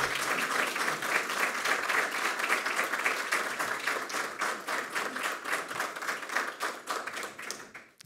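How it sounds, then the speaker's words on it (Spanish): Sustained applause from an audience at the signing of an institutional alliance, loud and continuous with dense clapping throughout, fading slightly toward the end. "Un aplauso por esta alianza que iniciamos"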